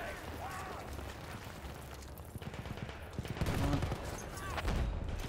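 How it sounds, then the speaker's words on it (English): Bursts of rapid gunfire in the Battlefield 1 video game, the player's character under fire, sustained crackling volleys growing louder toward the end with a voice talking over them. "I'm getting shot right now."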